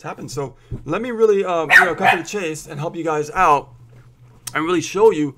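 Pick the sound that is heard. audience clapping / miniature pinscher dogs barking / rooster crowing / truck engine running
miniature pinscher dogs barking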